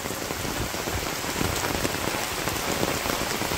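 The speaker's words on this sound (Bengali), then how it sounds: "বৃষ্টি মোটামুটি চলে গেছে, আবার আইতাছে" Steady rain falls on a village in Bangladesh during the rainy season, a dense, even hiss of drops striking surfaces that stays constant and close throughout, with no voices.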